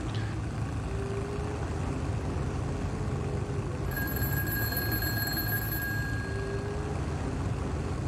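A field telephone rings in a tank combat game, a shrill repeating ring sitting over a constant loud rumble of engines and tracks, with the ringing most prominent through the second half.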